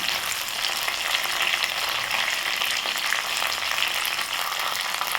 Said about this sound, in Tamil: நமக்கு நல்லா கடுகு பொரிஞ்சிருச்சு